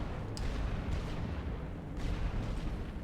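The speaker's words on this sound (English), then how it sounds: "Now he's dropping his artillery." Distant artillery fire rumbles through the World War I trench game The Great War: Western Front, a low continuous booming bed with a few faint sharper bursts and no speech.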